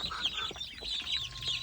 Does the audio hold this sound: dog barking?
no